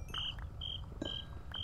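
Short, shrill cricket chirps repeat at an even pace in a modded video game, four quiet bursts over soft background noise with no one speaking.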